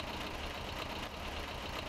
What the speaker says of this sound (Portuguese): O motor chacoalhando com a vibração.